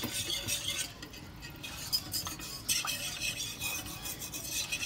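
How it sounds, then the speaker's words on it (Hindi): Milk being stirred into roasted flour for a white sauce for cheesy pasta, with a spoon scraping and swirling steadily against the pan, close and moderately loud, with light clinks of utensil on metal. "दूध डालते जाएंगे और हम इसको अच्छी तरह इस तरह हिलाते रहेंगे"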